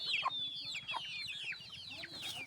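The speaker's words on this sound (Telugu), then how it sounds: "ఇక చూడండి కోళ్ళు వస్తున్నాయి." Several chickens cluck and chirp close by in quick, overlapping high-pitched bursts, busy and continuous throughout.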